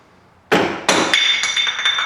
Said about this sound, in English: hit the grease cap off with the hammer